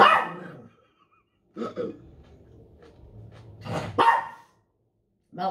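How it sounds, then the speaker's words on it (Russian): A dog barks in a few loud, close bursts separated by quiet gaps, with a faint low rumble between barks. "Молчать, собака."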